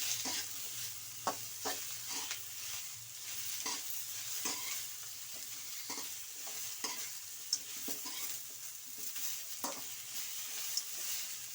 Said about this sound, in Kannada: ಎಣ್ಣೆಯಲ್ಲಿ ಕಟ್ ಮಾಡ್ಕೊಂಡಿರೋಂಥ ಟೊಮಾಟೊ ಹಾಕೊಳ್ಳಿ